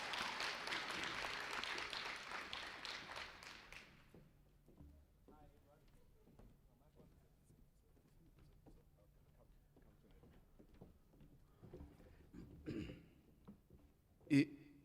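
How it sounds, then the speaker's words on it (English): An audience at the Durban Business Fair 2021 applauds a speaker. The clapping is loud and dense for about four seconds, then fades out as a voice talks over quiet room noise. "Ladies and gentlemen, shall we clap big hands for Mr."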